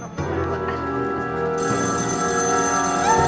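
A telephone rings indoors on a children's TV show set, a sustained electronic bell-like ringtone with bright tonal warbling that continues throughout, loud and close with no talk over it.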